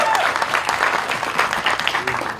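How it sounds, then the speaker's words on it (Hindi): An audience breaks into brisk clapping at a Border 2 film event, a short burst of applause that stays fairly loud, then begins to thin out toward the end. "सरीबाजी के लिए एक बार जोरदार ताली होनी चाहिए"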